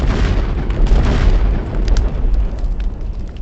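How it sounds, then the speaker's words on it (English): A huge oil tank explodes at Karachi port during the 1971 Indo-Pak war, a deep, sustained rumbling roar of broadband blast noise that rolls on for several seconds without speech. "And then there was a huge explosion that lit up the entire sky."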